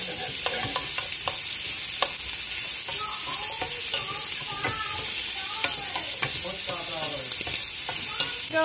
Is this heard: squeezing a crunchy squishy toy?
no